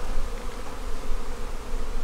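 Honey bees buzz steadily around an open hive being inspected, a dense, continuous drone with no pauses, close and fairly loud.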